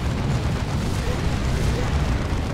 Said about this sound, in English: there's a rocket run that wipes out the stormtroopers